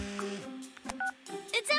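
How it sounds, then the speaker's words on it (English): A mobile phone in a cartoon gives short electronic beeps and tones that sound like dialing, with brief chirpy notes mixed with a child-like voice, fairly close and loud. "Oh, Rex, you should check your phone"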